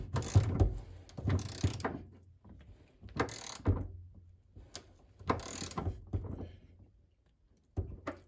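A ratchet clicks in several short bursts separated by pauses as rear shock absorber bolts on a Renault Megane 4 are tightened, close and fairly loud with quiet gaps between strokes.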